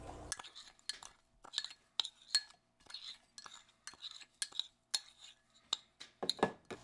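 Dry Jamaican jerk seasoning and all-purpose meat seasoning being stirred together in a bowl, giving quiet, repeated clinks and scrapes of a spoon in a steady rhythm, close and soft.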